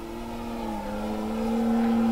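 A Hangar 9 Carbon Cub 15cc radio-controlled plane on its maiden flight, its small gas engine droning steadily with a strong buzzing tone that swells slightly louder as it nears, with no talk over it.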